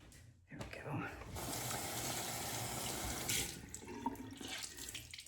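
Tap water runs steadily into a bathroom sink during a face-rinsing skincare routine, a continuous broadband splash lasting several seconds with small clinks near the end.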